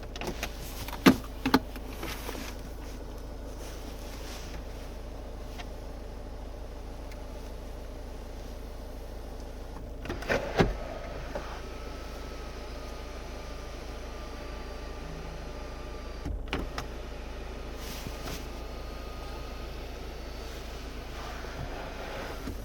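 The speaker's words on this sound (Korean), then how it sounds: "그 위쪽에는 썬루프입니다. 작동되는지 확인 도와드릴게요." Faint motorized whirring runs steadily inside a quiet seven-seat SUV as the sunroof opens and closes, punctuated by a few soft clicks and thumps as the panel moves.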